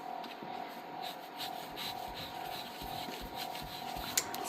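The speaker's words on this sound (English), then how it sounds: "if you do take a wet cloth or something and you rub it" A wet cloth rubs tacky glue off a surface in steady, close scrubbing strokes, a continuous soft hiss with faint rhythmic pulses and one small click near the end.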